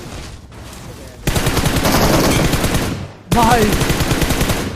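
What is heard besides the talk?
gunfire shooting at buggy tyre, from a video game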